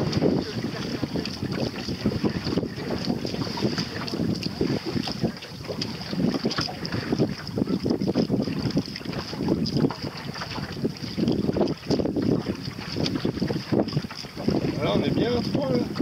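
Steady rush of wind buffeting the microphone over the water of Morlaix Bay at Carantec, with creaking and sloshing from a small Pacer sailboat running downwind; continuous and close.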